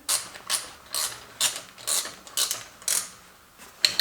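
A ratchet drives a bolt into the crankshaft of a triple-turbo LS engine in a Mustang, giving about ten sharp clicking bursts in an even rhythm, close and fairly loud, with no talking.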